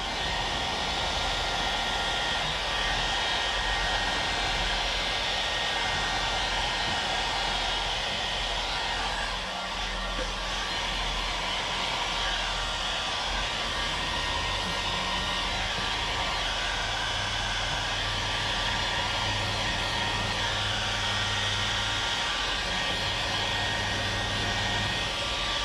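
A heat gun blows a steady, loud rush of air as paint protection film is warmed onto a car's front bumper. The whoosh holds unbroken for the whole stretch, with a faint low hum underneath and no talk.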